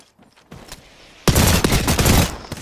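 Gunfire in an Apex Legends battle: scattered distant shots at first, then a loud, close rapid burst of automatic fire with sharp repeated cracks.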